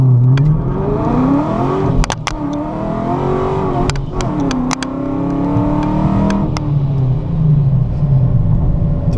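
A supercharged Dodge Challenger R/T with a 5.7 Hemi, traction control off, launches hard from a stop and pulls through several gears. Loud, rising engine roar with quick dips at each shift, heard close from inside the cabin, with no talking.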